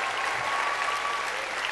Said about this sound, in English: Applaud that Danielle chose to come to Robert Wesleyan College.